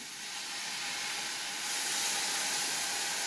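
A steady hiss of steam rising as a little water is added to hadga flower greens cooking in a hot pan, growing a little louder partway through, with no voices.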